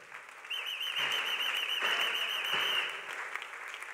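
A church congregation at a Sunday worship service applauds, a dense steady clatter of many hands that swells and holds for a few seconds with a thin sustained whistle riding above it before easing off.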